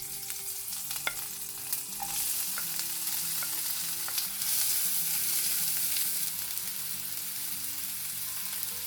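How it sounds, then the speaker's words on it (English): Green chili and chopped onion fry in hot oil with cumin, a constant close sizzle with occasional soft stirring taps and scrapes, steady throughout with no voices. "Fry the onions for about 2 to 3 minutes"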